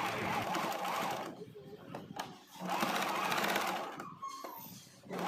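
A sewing machine stitches a flower girl gown, its steady rapid whirring running in near continuous bursts with brief pauses, while a person talks over it.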